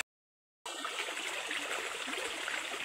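After a brief silence, a waterfall and stream rush in as a steady, soft, broadband wash of flowing water with no voices.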